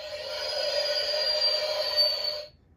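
A Star Wars Micro Galaxy Squadron Millennium Falcon toy plays a steady electronic engine effect, a bright whine over a hissy rumble lasting a couple of seconds before cutting off, fairly faint and with no talking.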